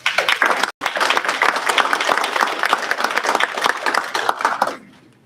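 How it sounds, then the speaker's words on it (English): A crowd at a community event breaks into loud, dense applause that runs steadily for several seconds, briefly cut off near the start, then fades out at the end. "please give yourself a round of applause"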